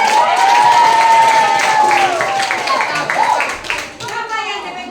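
An audience claps in a school hall during an information session, the applause loud and continuous under a prominent voice calling out over it, tapering toward the end.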